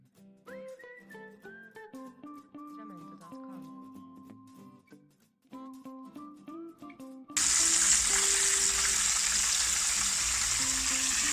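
Floured food drops into a hot pan and sears with a sudden loud, steady hiss and sizzle, coming in after a stretch of background music and holding to the end.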